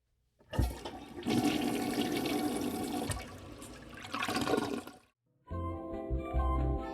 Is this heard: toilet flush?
yes